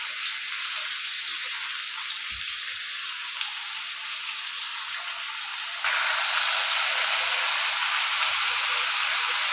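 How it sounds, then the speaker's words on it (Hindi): About 1.5 kg of chicken browning in ghee, a dense, hissing sizzle that runs unbroken and grows slightly louder partway through. "चिकन की घी में हमने अच्छी तरह से भुनाई करनी है।"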